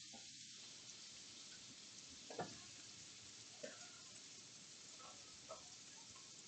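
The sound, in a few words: butter sizzling on a griddle for toast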